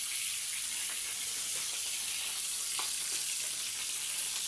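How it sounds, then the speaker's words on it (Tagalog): Fish frying in a pan on a wood-fired village stove, giving a steady, even hiss of sizzling oil that fills the whole stretch with no breaks. "This is how I fry the fish in the village."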